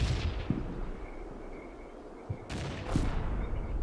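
Artillery shells and gunfire in a wargame, a distant rumbling bed of battle with several sharp reports and a couple of heavier blasts breaking through, fairly faint overall with no voices.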